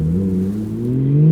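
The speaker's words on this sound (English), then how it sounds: "Oh, that beautiful car is coming." A car on the road approaches steadily, its engine hum rising in pitch and growing louder over a second or so, with no talking over it.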